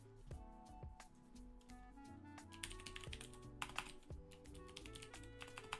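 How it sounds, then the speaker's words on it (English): Rapid typing on a loud computer keyboard during a live stream, steady clustered key clicks and clacks running throughout, close and prominent with no talking over them. "My keyboard is so loud"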